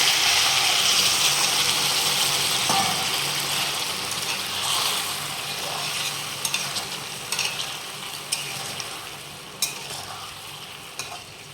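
Water is poured into chopped mangoes and sugar in a cooking pot for mango pickle, a steady broadband rush up close that slowly eases, with a few sharp clinks of a utensil toward the end.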